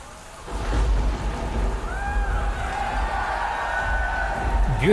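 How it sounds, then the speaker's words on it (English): Rain and thunder effects open a live concert intro for a metal band, a steady wash of heavy rain with low rumbling thunder throughout, a faint crowd murmur beneath, growing slightly louder toward the end. "Beautiful rain sound effects, first of all."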